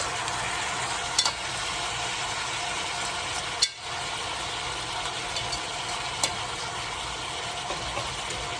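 Goat meat for curry goat being turned and browned in a pot, giving a soft, even sizzle throughout with a few faint clinks from the utensil, and no voices.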